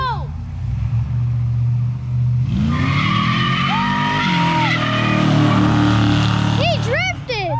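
Jaguar car doing a burnout and drifting at a car gathering, loud continuous engine roar with screeching tires throughout, while people talk nearby.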